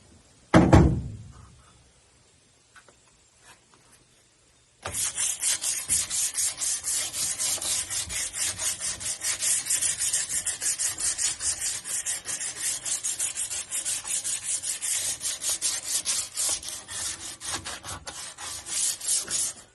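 Hand sanding on 1971 Chevrolet C10 exhaust headers: after a brief knock and quiet pause, a steady, rapid back-and-forth rasping scrape runs continuously, close and fairly loud, with no talking.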